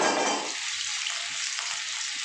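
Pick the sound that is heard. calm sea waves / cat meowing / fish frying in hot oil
fish frying in hot oil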